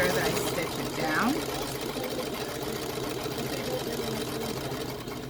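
A sewing machine hums steadily while stitching down the pocket of a dog coat, a continuous close motor whir under speech and other voices in the background.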